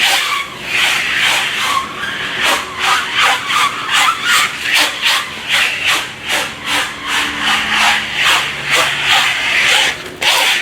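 A Litewrapper XT hand dispenser pulls stretch wrap around a pallet load, making a rapid series of rhythmic crinkling, rubbing rasps, close and fairly loud, repeating steadily throughout with no speech.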